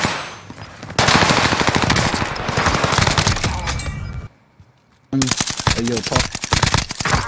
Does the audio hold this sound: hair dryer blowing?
no